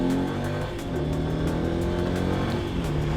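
A Lifan KPS 200 street motorcycle with a fuel-injected 22 hp engine accelerates, its loud buzzing engine note running steady and close for a few seconds with no talking.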